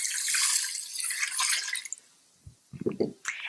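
About a cup and a quarter of water is poured straight onto rice in an Instant Pot, a steady close splashing rush for roughly two seconds, followed by a few soft taps and clinks.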